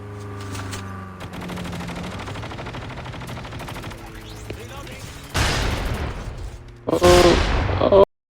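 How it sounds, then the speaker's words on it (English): Gunfire in a battle-royale video game near sheds, with a Black Market area nearby: scattered shots and rattling bursts build, then two loud, dense volleys close by near the end over game ambience, with a voice talking underneath. "We hear some shots by the sheds"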